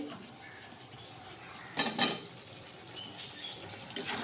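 Raw potatoes stirred into spiced oil in a pan, with salt, turmeric and chilli powder: a quiet background, then a short cluster of metal clatter and scraping from the spoon, and a faint clink near the end.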